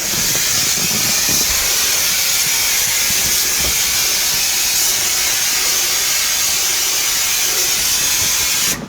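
Spray paint in detail gray hisses onto a 1982 Jeep CJ7 dashboard in one long, loud, steady spray, close by, cutting off at the end with no talk.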